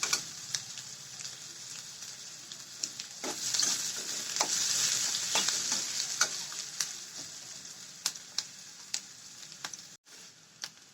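Sliced onions fry in a pan until golden, giving a steady close sizzle broken by frequent sharp scrapes and clicks of stirring, with no talking.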